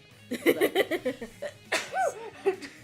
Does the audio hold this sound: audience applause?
no